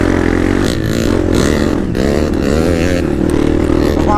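A Honda CRF250X four-stroke off-road motorcycle revs hard up close on a muddy trail, its rough, buzzy tone rising and falling with throttle blips and clattering mechanical noise throughout.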